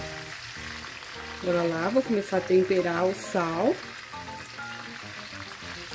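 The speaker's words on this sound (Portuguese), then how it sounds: "Continua fritando bem devagar." Chicken drumsticks fry slowly in a frying pan with a soft continuous sizzle, while a person speaks over it in Portuguese.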